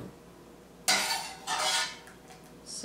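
A utensil scrapes and clinks against a pot as cooked cauliflower and carrots are scooped out, a few rough scraping strokes close by.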